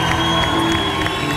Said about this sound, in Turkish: Çok büyük alkışlar, çok büyük alkışlar